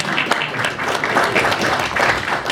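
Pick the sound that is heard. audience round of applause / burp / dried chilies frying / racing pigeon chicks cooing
audience round of applause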